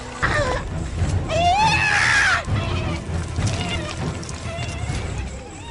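A person acting as a spirit medium screams and wails loudly and close, rising and falling shrill cries over a noisy, crowded background during a mystical ritual.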